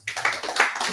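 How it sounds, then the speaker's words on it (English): Workshop crowd claps for a volunteer, a short burst of close, crisp hand clapping lasting about a second, starting suddenly with no talk over it. "Give a round of applause."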